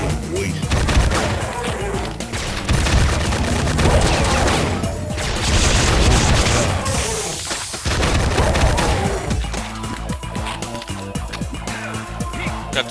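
Rapid pistol gunfire with booming blasts aimed at trooper enemies while the player stands in water in Duke Nukem 3D, dense and loud over busy game music and effects throughout.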